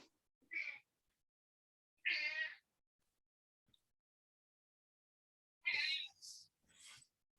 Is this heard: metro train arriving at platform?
no